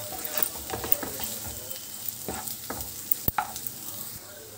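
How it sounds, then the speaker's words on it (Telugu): Chili powder fries on a low flame for egg masala curry, a soft continuous sizzle broken by scattered spoon scrapes and taps against the pan, one sharp knock near the end. "ఇదిగోండి కారం వేసిన తర్వాత ఒక 2 నిమిషాలు ఇలాగ లో ఫ్లేమ్లో వేయించుకున్న తర్వాత"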